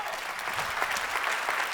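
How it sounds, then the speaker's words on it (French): A conference audience gives a speaker a round of applause, fairly soft and even, a continuous patter of many hands with no voices on top. "Merci, on peut l'applaudir."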